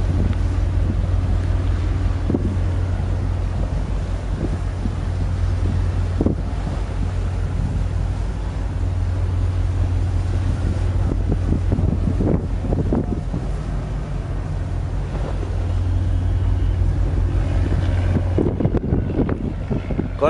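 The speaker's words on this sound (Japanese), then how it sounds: "外線のエンジン音がひときわ高くなりました。" A ship's engine at sea, heard from a vessel on open water: a steady low drone and rumble under heavy wind buffeting the microphone, with occasional knocks and a noisier rise near the end.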